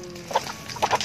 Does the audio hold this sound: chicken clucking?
yes